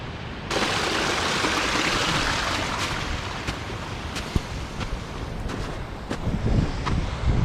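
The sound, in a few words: mountain streams flowing down in Glencoe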